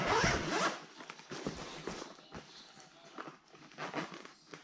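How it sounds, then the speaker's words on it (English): A zipper on a sturdy carrying case is drawn open nearby, a quick raspy zip followed by softer intermittent rustling and scraping as the case is handled. "Let's unzip this thing and see what it has."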